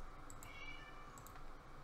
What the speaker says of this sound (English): I'm hearing a cat meow in the background because that's what my phone does.